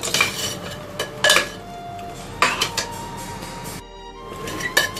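A metal spoon scrapes and clanks against a pot as mutton is stirred and browned over high heat for tinday gosht, giving several distinct knocks spaced through a low background of cooking noise.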